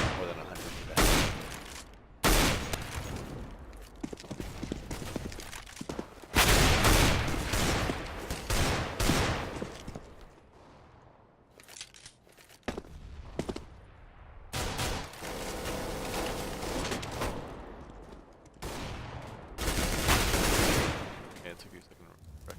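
Gunfire in a Counter-Strike match demo, with loud bursts of rifle shots and rapid automatic fire repeating across the stretch, separated by quieter gaps, with a voice talking underneath at times.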